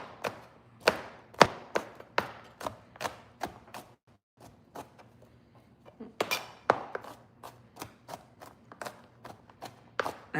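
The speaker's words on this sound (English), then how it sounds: "Okay, let's start chopping." Ingredients for Filipino chicken caldereta are chopped with a knife on a board: a steady series of sharp, close taps with a brief pause midway, then the rapid chopping resumes.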